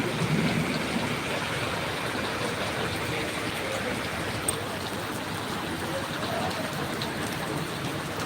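Steady rain falls outside a mechanic's shop on a rainy day, near mango and drumstick trees, producing a continuous, even hiss of drops on surfaces and puddled water, loud and unbroken throughout.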